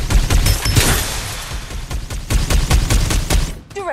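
Loud, dense gunfire in the Farlight 84 shooter keeps up a continuous rattle of rapid shots and impacts, close and forceful, barely letting up across the whole stretch.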